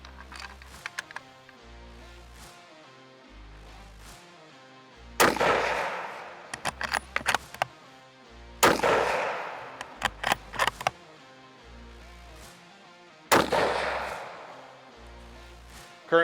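Christensen Arms MHR rifle in 6.5 PRC firing Hornady Match 147 grain and Norma Golden Target 143 grain rounds: three loud, sharp reports spaced several seconds apart, each with a long echoing decay, between quieter clicks and handling noises.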